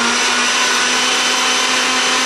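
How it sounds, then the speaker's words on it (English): A blender whirs steadily as it purées homemade currywurst sauce, a loud, continuous motor drone with a constant pitch that holds for the whole stretch and has no voices over it. "Will Currywurst sauce blend?"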